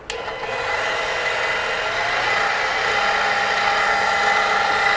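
Milling machine spinning fast and cutting a stainless steel liner, a sustained loud, high-pitched whine and grinding hiss starting abruptly and holding steady for several seconds with no talk.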